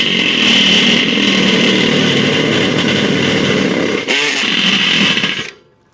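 A step drill bores a hole through the steel wall of a Weber kettle grill, a loud steady grinding whine that runs unbroken for over five seconds, dips briefly near the end, then cuts off.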